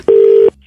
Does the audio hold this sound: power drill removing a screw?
no